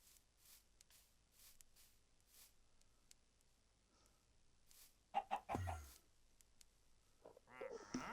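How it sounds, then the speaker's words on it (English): Minecraft chickens give soft, scattered clucks against a quiet game backdrop, followed later by a louder burst of squawking and clucking near the end. "Oh, there's another chicken."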